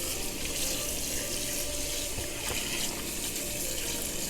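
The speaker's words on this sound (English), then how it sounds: "So we just rinsing it off, washing it off, whatever, however you want to say that." A kitchen tap runs steadily over raw pork chops in a sink, a loud, continuous splashing rush of water with no pauses.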